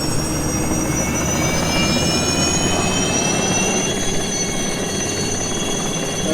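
Aérospatiale SA315B Lama helicopter turbine engine running at full throttle, a loud continuous high-pitched turbine whine over a steady rumbling roar, constant and close throughout.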